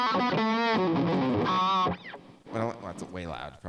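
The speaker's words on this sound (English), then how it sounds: "you throw the JHS on there" Electric guitar driven through a JHS Prestige boost pedal, a loud, overdriven sustained chord ringing for about two seconds before breaking into quieter picked notes and bends.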